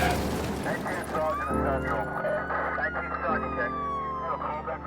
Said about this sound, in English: let the ambulance through. Please move aside.